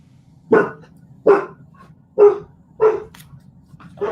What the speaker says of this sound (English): They all bark for no reason.